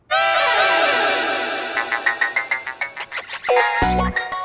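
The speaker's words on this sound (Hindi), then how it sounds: "फोन बज रहा है, लेकर आ।" A phone rings with a bright electronic melodic tone that begins sustained and then breaks into a rapid pulsing pattern, loud and close, ending in a few sharp beeps, with no voices.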